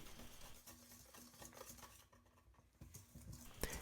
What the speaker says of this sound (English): Let's mix everything together now.